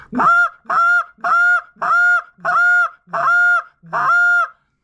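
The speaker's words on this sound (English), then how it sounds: "So we have the cluck, we have the moan, we have the comeback call." Seven evenly spaced honking Canada goose notes blown on a short reed call, loud, close and alone, each a sharp two-tone honk.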